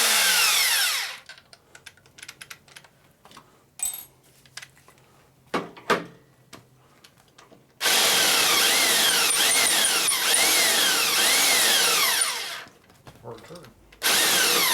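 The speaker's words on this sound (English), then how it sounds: "What size reamer are we going to use? So we're going to use a reamer." A reamer works a part from a 1965 Harley-Davidson Panhead 74ci FLH motor during a machine-shop rebuild, giving loud sustained grinding bursts, one near the start and a longer one in the middle, broken by quieter clicks and handling noises.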